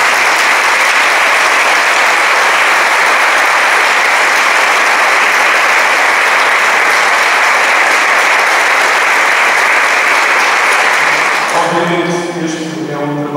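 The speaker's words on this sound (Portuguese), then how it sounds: "uma grande salva de palmas para eles" Audience applauding a senior choir after a performance: dense, loud clapping that holds steady for about eleven seconds before thinning out at the end.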